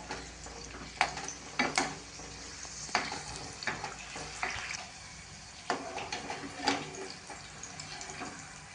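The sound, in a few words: green chillies frying in oil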